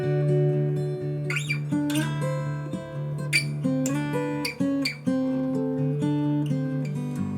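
Steel-string acoustic guitar in drop D tuning picking the intro to a song, a continuous fingerpicked pattern of ringing bass notes and melody across the whole stretch, close and clear with no voices.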